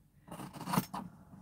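Scissors trim the cover of a blue floral junk journal in a short, quiet pair of crisp snipping cuts, close up with no talking.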